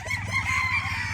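A cross-brood gamecock stag from a game farm crows once, a short, fairly faint call over a low steady background hum.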